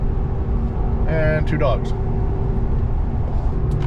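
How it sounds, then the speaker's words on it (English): Steady low road drone from inside a moving car, continuous throughout, with people talking over it and a few brief high chirps partway through. "So right now Miriam is driving the car"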